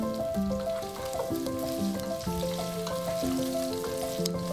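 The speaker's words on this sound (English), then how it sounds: "cook until the onions are golden brown" Onion, garlic and rice pilaf mix fry in oil in a pan over medium heat, a soft steady sizzle largely masked by a louder stepping melodic music track.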